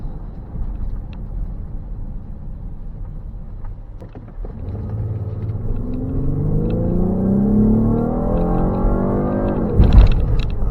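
A Ford Explorer EcoBoost SUV with a power-loss fault accelerates, its engine drone rising steadily in pitch from a low rumble over several seconds, heard from inside the cabin, ending in a brief clunk.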